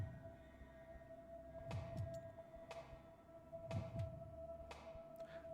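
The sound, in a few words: heartbeat in a video game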